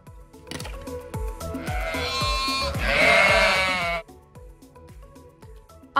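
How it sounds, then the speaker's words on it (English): A sheep lets out one long, loud, wavering bleat that rises and then cuts off, heard close up over a gentle rhythmic musical backing. "Sheep."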